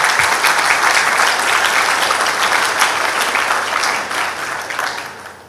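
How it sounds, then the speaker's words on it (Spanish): Strong, full applause from an audience at an engineering forum on seismic risk in buildings, a loud continuous roar of clapping that slowly fades toward the end. "Pedimos un aplauso también."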